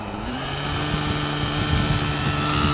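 An OS 105HZ R model engine runs rich during run-in, a continuous buzzing drone with a steady pitch that grows slightly louder and rougher toward the end.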